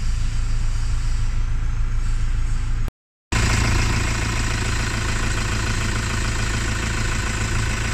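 Car engine idling loudly and steadily after a fuel injector tip replacement, a constant close mechanical hum with a brief dropout partway through.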